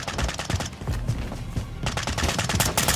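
Rapid gunfire in a Call of Duty match on an airplane graveyard map, a dense, loud volley of overlapping automatic shots that dips briefly in the middle, then picks up again.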